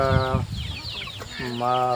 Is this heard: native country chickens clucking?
yes